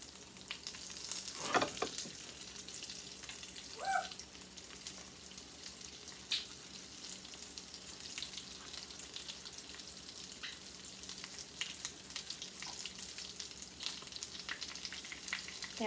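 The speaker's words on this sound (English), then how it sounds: "I'm going to finish frying these up" Eggplant slices for eggplant parmigiana frying in a pan, a steady soft sizzle and crackle with occasional louder pops and light clinks, no talking.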